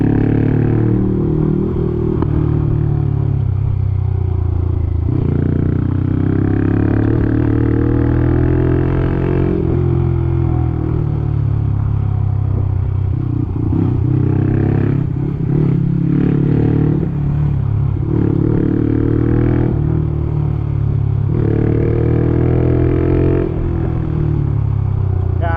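A Honda CT motorcycle rides over a rough road, its engine droning steadily while the frame rattles and clatters over bumps, loud and close throughout.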